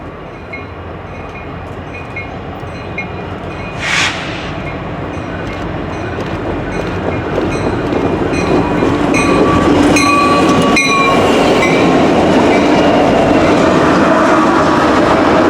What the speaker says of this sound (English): Daily manifest train CNA 408 makes its way across the diamond into Effingham Yard to do some work.